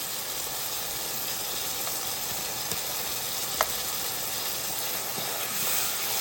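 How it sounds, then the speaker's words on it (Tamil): Ground masala paste sizzles in a hot pan of mushrooms while making a mushroom gravy. A steady, soft frying hiss continues with a few faint clinks, and no one speaks. "இது உள்ள இப்போது அரைச்சி வச்ச மசாலாவை போட்டுறேன்"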